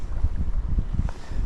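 Steady wind buffets the microphone outdoors during smallmouth fishing in wild Pacific Northwest weather, a low rumbling roar with gusty surges throughout and no voices.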